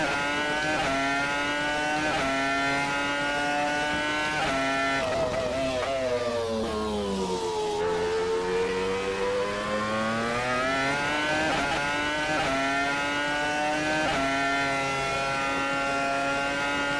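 A Renault R25 Formula One car's Renault engine screams at high revs, pitch dipping as it brakes into a corner then climbing steadily again as it accelerates away, loud and continuous.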